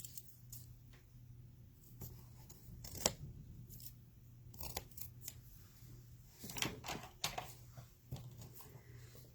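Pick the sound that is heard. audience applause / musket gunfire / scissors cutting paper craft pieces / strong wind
scissors cutting paper craft pieces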